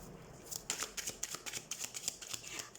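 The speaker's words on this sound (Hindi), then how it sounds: "तो सबसे पहले हम कार्ड शफल कर लेते हैं कैंसर साइन।" Tarot cards riffled and shuffled by hand in a series of quick, close papery bursts with brief pauses between, fairly soft, with no talk over them.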